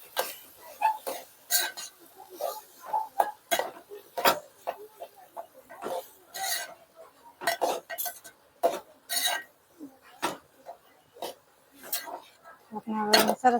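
Potatoes and peas being stirred into gravy in a cooking pan for a bhaji cone recipe, with repeated metal clinks and scraping of a spoon against the pan at close range, set against an otherwise quiet kitchen.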